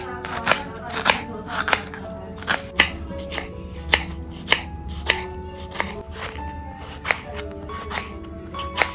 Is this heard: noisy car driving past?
no